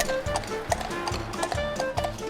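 A carriage horse on a seaside resort rank clip-clops steadily, its hooves striking pavement in an even repeating rhythm, close and fairly loud, with faint background voices.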